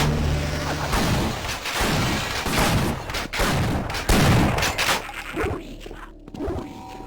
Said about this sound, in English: this shotgun ejects a shell immediately after firing before it's pumped.